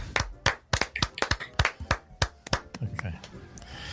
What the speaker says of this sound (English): We're clapping because we love you.